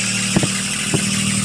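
A freshly swapped D16Z6 engine in a Honda Civic runs steadily with a high, continuous squeal over it, plus a couple of brief knocks.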